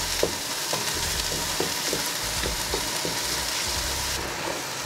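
Chicken and mixed vegetables fry for a large batch of fried rice, a steady loud sizzle with repeated scraping stir strokes at an even rhythm, close and continuous with no talk.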